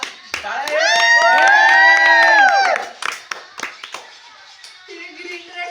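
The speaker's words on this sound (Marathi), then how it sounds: "टाळ्या वाजवा" A few people clap sharply in a small group, scattered and brief, while voices talk loudly and someone sings or calls out a drawn-out note over them.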